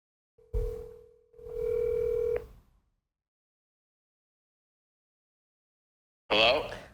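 An outgoing phone call rings twice with steady electronic tones, separated by brief gaps, and then a short burst of sound follows after a long silence.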